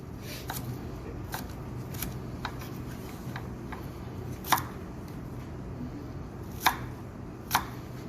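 An onion is chopped with a knife on a cutting board in a steady run of crisp close taps, with a few louder knocks standing out near the end and no speech.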